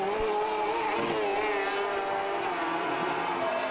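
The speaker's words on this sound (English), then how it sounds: "Palmer accelerates his way now down towards turn 2 and then in towards Mobile 1" Rallycross car in the RX150 final of the 2017 British Rallycross Championship at Mondello, its engine howling loud and steady under hard acceleration, pitch rising and wavering through the gears, with no talk.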